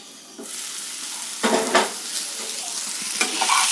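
Eggplant and capsicum fry over a medium flame in a pan with a constant hissing sizzle. A spatula stirs and scrapes against the pan in a few sharp bursts, up close with no talking.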